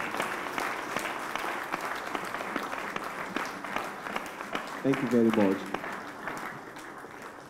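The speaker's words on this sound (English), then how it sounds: "Please, let's keep clapping, please. Let's clap louder." Audience at an academic symposium claps steadily, a broad wash of applause lasting throughout, while someone speaks briefly over it near the end.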